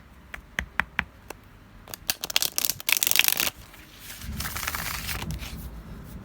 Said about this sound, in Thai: มาครับมาขัดมาสับไพ่กันนะ